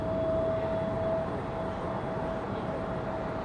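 At Charlotte Douglas International on windy runway 36 center, a jet airliner rolls for takeoff. A broad, steady engine roar stays loud throughout, with a faint whine riding on top.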